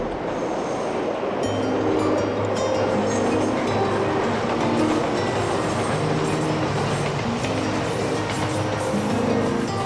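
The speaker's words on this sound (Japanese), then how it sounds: "電車の音" A train rolls past close by near a level crossing in southern Osaka, a continuous loud roar with rhythmic clattering of wheels on the rails and faint tonal whines.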